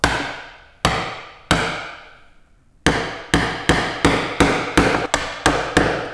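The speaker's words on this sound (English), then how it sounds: "So now I can chisel in what's remaining of that pen line. Get it located and whack it." A mallet drives a chisel into wood while chopping a mortise for a hand-cut mortise and tenon joint: about a dozen loud, sharp close knocks, slow at first, then in a quicker steady rhythm.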